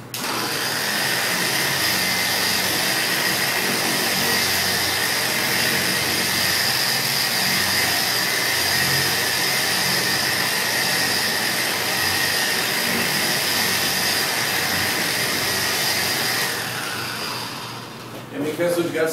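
Porter Cable 7424XP dual-action polisher running at speed setting 3 with a Nanoskin Autoscrub pad on a car hood, a steady loud whirring drone held for most of the clip before winding down near the end.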